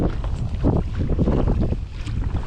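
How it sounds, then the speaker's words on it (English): Gusty winter wind buffets the microphone on open water during kayak fishing, a loud continuous low rumble with broadband rushing noise and no speech. "I don't know how well you could hear it with the wind"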